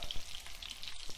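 Shrimp croquettes fry in a pan, cooked in batches, giving a steady close sizzle with a crackling hiss that continues evenly and alone without any pause.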